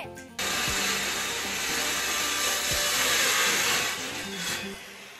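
A loud, steady whine of a power saw cutting wooden planks at a house build, constant and close throughout with slight swells in pitch and a few low thumps, with no talk.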